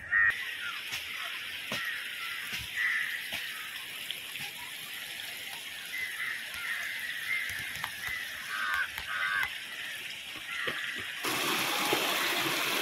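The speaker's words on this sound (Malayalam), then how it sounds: "ചെറിയ കുളം പോലെ ഇങ്ങനെ വെള്ളം വീണ് വീണ് കുഴി വലുതായിട്ടുണ്ട്." Water of the Vadattupara waterfalls at Kothamangalam pours into a small rock pool with a steady hiss and gush heard from nearby, crow-like calls scattered over it, and the wash swelling louder near the end.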